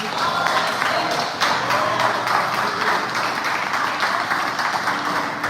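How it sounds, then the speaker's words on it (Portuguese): Church congregation clapping throughout a sermon service in Maringá, a steady, fairly loud wash of many hands with faint voices beneath. "Aleluia, Jesus, bate palmas agora, Deus."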